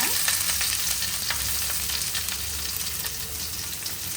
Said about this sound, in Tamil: வெங்காயம் போட்டுக்கணும்.